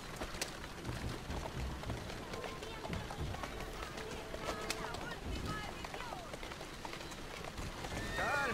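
Horse running off in the Assassin's Creed Syndicate video game, hoofbeats and a whinny in a busy game soundscape with crowd and birds, steady and mid-level, with someone talking over it.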